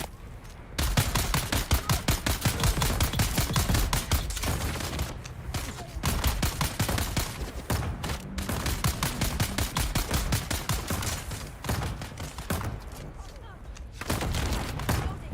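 Rapid automatic gunfire in the Dune video game, dense back-to-back bursts of shots rattling almost without pause for the whole stretch, loud and close, with only brief gaps between volleys.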